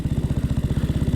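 A 1927 Sunbeam Model 6 motorcycle pulls away in first gear, its single-cylinder engine thumping in a loud, close, rapid even beat that rises slightly in pace.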